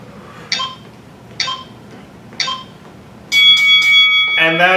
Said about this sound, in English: that's our finishing bell